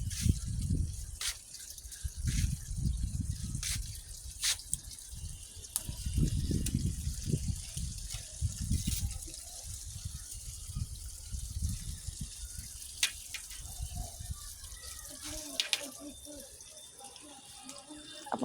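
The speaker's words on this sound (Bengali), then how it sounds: "আর জান বাচ্চাটা পানি দিচ্ছে।" A child pours water onto plants in a rooftop garden: splashing and trickling in uneven bursts, with voices talking intermittently nearby.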